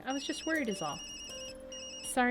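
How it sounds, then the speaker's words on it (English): A phone ringtone inside the video game Tokyo Dark rings as a clear repeating electronic tone behind a character's spoken lines, rising again toward the end. "That's my phone."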